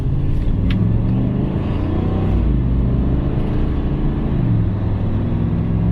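V8 pickup truck pulling away from a stop, a close, deep engine rumble that rises steadily in pitch as it gathers speed, alone with no talk.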